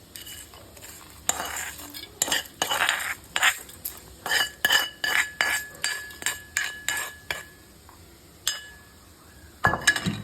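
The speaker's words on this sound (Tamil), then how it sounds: "அப்படி நான் மிக்ஸி ஜாரில் ட்ரான்ஸ்ஃபர் பண்ணுறேன்." A spoon scrapes and clinks against a metal mixer jar in a quick, steady rhythm as cooled food for prawn chammanthi is moved into it, with no one speaking.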